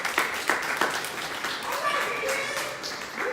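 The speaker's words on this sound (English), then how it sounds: "Can y'all give them a round of applause?" Audience at a live podcast recording breaks into applause, a few distinct claps at first swelling into a brief ripple of clapping, with some crowd voices mixed in.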